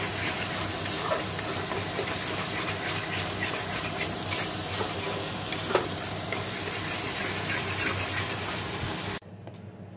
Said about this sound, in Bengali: গোটা গরম মশলা, জিরে, শুকনো লঙ্কা ফোড়ন দিয়ে মশলা যেটা করে রেখেছিলাম মাংসের মশলা দিয়ে নুন হলুদ মিষ্টি দিয়ে কষাচ্ছি মশলা